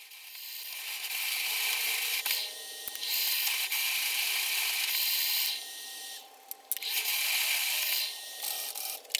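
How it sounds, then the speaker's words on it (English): An annular cutter with custom-ground teeth bores into metal on a lathe, giving a loud, steady grinding rasp in long sustained passes broken by brief pauses. "it's going to be far easier and far quicker to cut it with an annular cutter"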